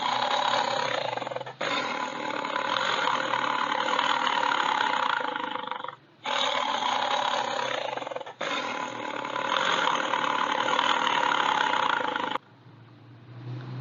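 Tiger growling in long, continuous rumbling bursts, three or four sustained roars separated by short pauses, fairly loud and alone.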